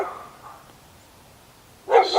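A dog barks nearby, one sharp, loud bark at the very end after a fainter earlier yelp and near quiet.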